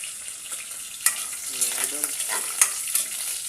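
Tuna frying in a pan while being stirred, a steady close sizzle with scraping and clinking of a utensil against the pan, and someone briefly speaking over the cooking.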